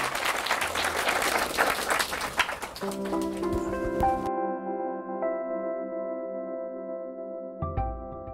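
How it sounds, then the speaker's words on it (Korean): An audience applauds at a film masterclass in Korea, a thick burst of clapping lasting about four seconds before it cuts off and gives way to sustained tonal music. "큰 박수 부탁드립니다"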